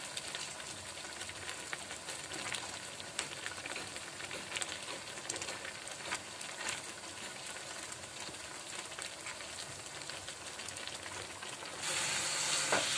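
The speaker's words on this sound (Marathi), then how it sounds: "वितळून आपल्याला ही साखर परत घट्ट होईपर्यंत आपल्याला हे ढवळत राहायचं आहे।" Grated carrot halwa in a pan with sugar melting into it, stirred steadily as it thickens; a continuous soft sizzle with faint scraping runs throughout and grows a little louder near the end, with no voices.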